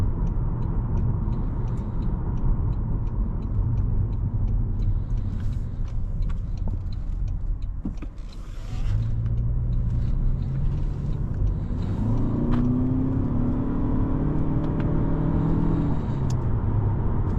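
A 2025 Toyota Camry SE hybrid with an eCVT pulls away steadily, its engine drone rising in pitch through several climbing tones; the rumble is close and continuous, briefly dipping before building again.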